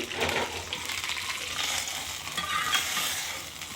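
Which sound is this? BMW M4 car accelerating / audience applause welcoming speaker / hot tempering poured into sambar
hot tempering poured into sambar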